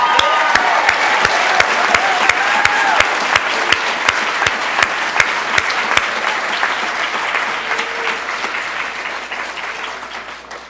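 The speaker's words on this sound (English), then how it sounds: "Let's give them our first round of applause." An audience at the Capitol High class of 2018 graduation ceremony breaks into sustained applause, dense steady clapping from a large crowd that gradually fades toward the end.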